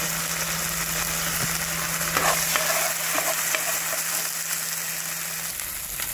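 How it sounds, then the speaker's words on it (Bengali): Canned chopped tomatoes sauté in a pan for a South Indian fish curry, a continuous soft sizzle and bubbling with occasional stirring scrapes and a faint steady hum beneath. "এই স্টেজে আমি কিছু ক্যান চপ টমেটো ঢেলে নেব। এটাকে 2 মিনিটের মতো সাঁতলে নেব আমি।"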